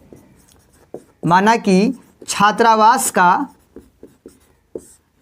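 Pen scratching on paper while a math problem is worked out in a Hindi-language class, soft and intermittent beneath steady spoken explanation, with a few light taps near the end.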